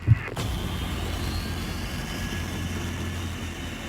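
An MQ-25 Stingray unmanned aircraft engine hums in a steady, broad drone during its takeoff roll, holding fairly loud and constant after a brief thump at the start.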